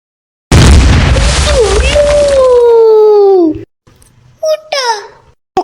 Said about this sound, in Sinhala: රතිඤ්ඤාව දාපන් ඉක්කොන්ට